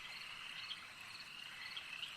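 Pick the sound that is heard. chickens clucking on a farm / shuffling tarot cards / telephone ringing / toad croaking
toad croaking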